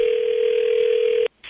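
A steady telephone tone holds for over a second, loud and unbroken, then cuts off abruptly into near silence before a faint new sound begins as the call connects.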